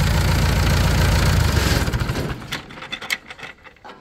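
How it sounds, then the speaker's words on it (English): An old Perkins engine in a Lancer Boss 501 forklift idles with a loud, steady rumble for about two seconds, then winds down and sputters to a stop with a few fading knocks as it is switched off. "And the classic old Perkins engine,"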